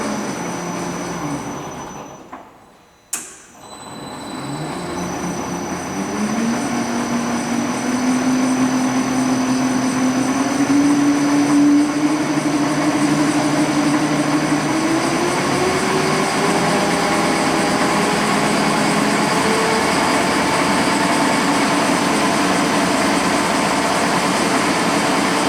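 An Aronson GE90A 9000 lb geared elevation welding positioner tilts with a loud, continuous motor drone and a rising, gently wavering whine, following a short pause with a sharp click.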